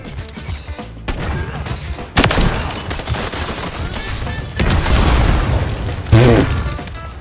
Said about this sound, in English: That guy blew himself up, bro.